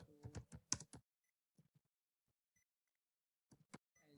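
Quick keystrokes on a computer keyboard while writing a PHP file in a code editor, a dense one-second burst, then a few scattered taps and another short flurry near the end, close and fairly quiet.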